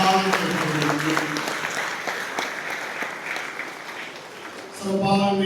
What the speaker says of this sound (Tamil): பலத்த கரகோஷம் எழுப்பி அவரை பாராட்டுமாறு அன்பாக கேட்டுக்கொள்கிறேன்